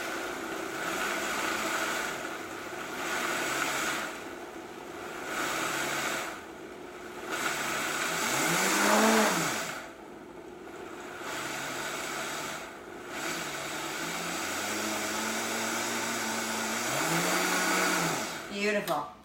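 A blender grinds dry ingredients for gluten-free high-protein donuts with a loud, whirring motor roar that surges and dips in pitch over about twenty seconds, broken by short pauses and restarts.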